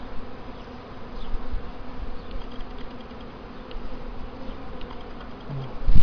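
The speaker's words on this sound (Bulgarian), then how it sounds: "А, пчелата е избегала." Honeybees buzz steadily around a hive during swarm work, a dense, continuous drone with individual insects passing close by, alone without talk.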